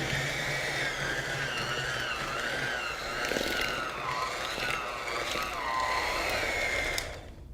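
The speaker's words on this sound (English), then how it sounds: "So you don't want to shock the blender." A kitchen blender whirs steadily while mixing batter as flour is added a little at a time, a loud, close motor drone with shifting pitch that cuts off near the end.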